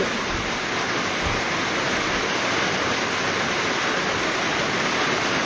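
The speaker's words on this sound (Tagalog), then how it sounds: "Sana ulan ka lang, hindi ka bagyo." Heavy rain pouring down on a rural farm, a dense, loud, unbroken hiss with no pauses, steady from start to finish.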